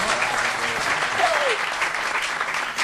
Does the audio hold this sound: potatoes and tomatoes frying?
no